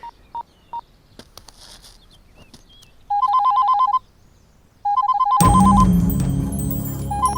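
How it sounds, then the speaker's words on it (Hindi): A telephone rings in a home scene: a few short electronic beeps, then two longer bursts of rapid trilling ring tones, before a louder burst of music-like sound takes over. "इस वक्त स्वाति का फोन, कुछ काम होगा"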